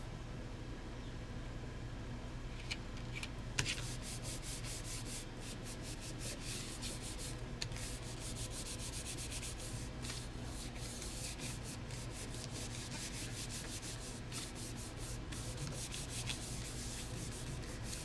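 Someone rubs the back of a rubber stamp by hand, making a continuous dry, scratchy friction sound with quick back-and-forth strokes, close and fairly quiet, with no talking.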